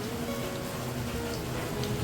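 Heavy monsoon rain falls steadily as a dense, unbroken hiss that stays at an even loudness throughout, with no voices.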